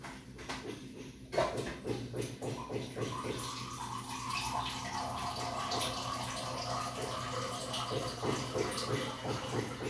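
Water runs steadily from a tap, poured for drinking in a home kitchen, as a continuous splashing flow that lasts several seconds.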